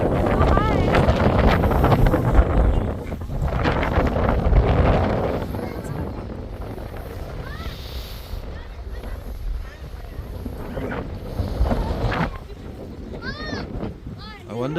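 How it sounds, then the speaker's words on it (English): Strong wind buffets the microphone at a cliff lookout in the Blue Mountains, a steady roaring rumble that runs throughout under people talking, with some birdsong near the end. "这里的风很强的，其实 strong wind"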